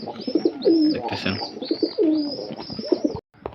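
Male pigeon in a home loft cooing, several repeated low throaty coos in rhythmic bursts, close and fairly loud, ending abruptly in silence.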